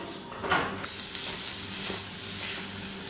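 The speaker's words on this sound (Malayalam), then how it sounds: "വെളുത്തുള്ളിയുടെയും ഇഞ്ചിയുടെയൊക്കെ പച്ചമണം മാറുന്നവരെ നന്നായിട്ടൊന്ന് വഴറ്റി കൊടുക്കുക" Crushed garlic and ginger sizzle steadily in hot oil in a pan, a bright continuous frying hiss with a couple of spatula scrapes near the start, close and even, no voices.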